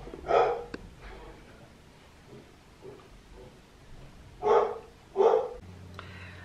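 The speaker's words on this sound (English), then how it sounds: "It's my dog, hold on." A pet dog barks indoors, one bark early on, then two loud barks close together near the end, with quiet room noise in between.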